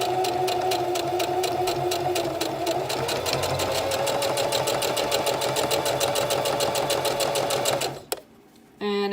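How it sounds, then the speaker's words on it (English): A sewing machine stitches fabric for a face mask, a fast, even mechanical rattle that runs loudly and continuously before stopping abruptly near the end. "That is where we will start sewing, and when we get to the first corner we're going to stop."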